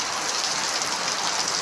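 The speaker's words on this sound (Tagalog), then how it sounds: "lumakas na nga ang ulan" Heavy morning rain pours down in a dense, even hiss of drops on surfaces, loud and unbroken throughout, with no voices.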